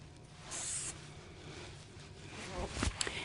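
Hairspray is misted over styled hair to add lift and volume, giving a short, close hissing burst of aerosol amid soft rustling and handling noise.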